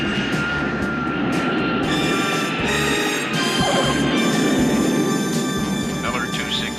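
Loud, steady drone of an airplane engine with a rising whine as the plane taxis to the runway, continuous throughout, with a voice talking over it.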